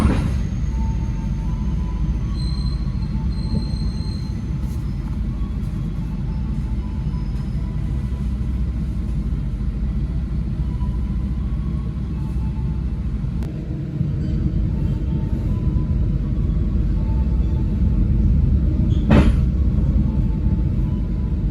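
Heard from aboard a KA Kaligung train in Indonesia as an additional Sembrani express passes, a loud continuous low rumble with steady rolling noise, a brief tonal whine, and a sharp clank near the end.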